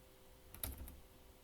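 A short, faint burst of a few keystrokes on a computer keyboard, quiet and close, lasting well under a second, against a low background hum.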